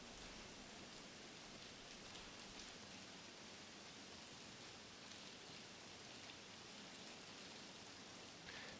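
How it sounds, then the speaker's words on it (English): Light rain begins falling outdoors, an even, hissing wash of drops that holds steady and fairly faint throughout, with no talking. "starting to rain here. The rain is coming."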